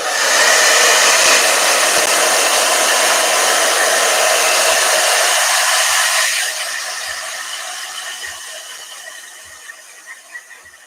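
A hair dryer roars loudly with a steady airy whoosh, then drops to a lower setting and keeps running with faint ticking underneath.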